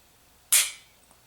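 A single sharp H&K P30 pistol shot fired in double action, a loud crack with a short decaying tail, standing alone in an otherwise quiet setting.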